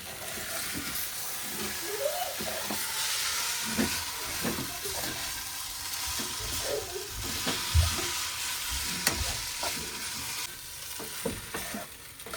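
Garlic Maggi noodles sizzle and fry in a pan while a plastic spoon stirs them, giving steady hiss with scraping clinks throughout; a voice speaks faintly at moments.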